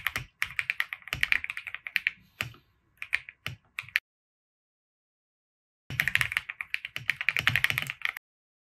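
Keys tapping on a computer keyboard in quick bursts of close, crisp typing, pausing in silence for about two seconds before another rapid run of keystrokes.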